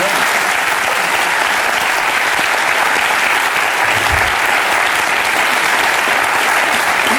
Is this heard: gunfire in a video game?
no